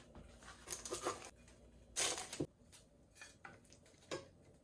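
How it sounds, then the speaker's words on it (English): Eggplant pieces for a meat stew are lifted with a utensil and dropped into the stew pot, giving a few soft, scattered clinks and taps of metal on cookware with quiet gaps between them. "Okay, so I'm just picking this up with this and putting it inside the stew."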